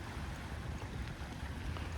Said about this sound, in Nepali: यो समुद्रको यो छालको तपाईँले सुन्नुहुँदैछ आवाज